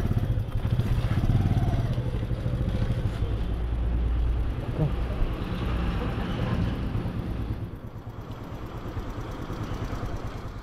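A motorcycle's engine rumbles steadily at close range on a rideshare trip in Dhaka city traffic, with surrounding vehicle noise and a dip in engine level near the end; people talk over it.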